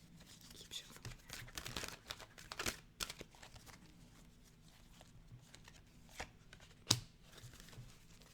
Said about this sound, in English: Keep shuffling.